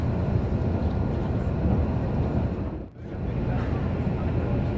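An Odakyu Enoshima-line train rushes without stopping through Chogo Station in Fujisawa, Japan, with a loud, steady roar and rumble, dipping briefly in the middle before the noise surges back.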